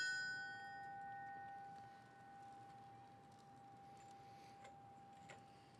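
A memorial bell rung at a fallen firefighter ceremony in Edmonton, Alberta, leaves a quiet, pure ringing tone that lingers and slowly fades, heard faintly at a distance with a couple of soft knocks afterward.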